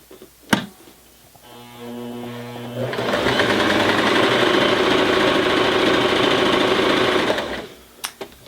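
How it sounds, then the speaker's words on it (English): A beginner sewing machine stitches through two folded layers of light to medium weight denim with a steady rapid mechanical whir that starts slowly, speeds up and holds for several seconds, with a click before and after. "We're going to fold it up and stitch through the 2 layers"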